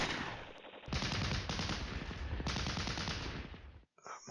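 Sustained gunfire and artillery bombardment in the Flashpoint Campaigns Cold War strategy game, dense rattling machine-gun bursts and blasts filling the scene continuously before cutting off abruptly near the end.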